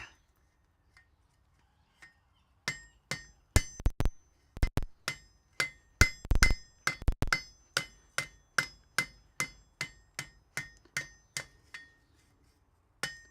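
Hammer blows on a hot forge-welded iron ring held in tongs and flattened on an anvil in a smithy: a few scattered taps, then a steady run of about twenty sharp ringing strikes, close and loud.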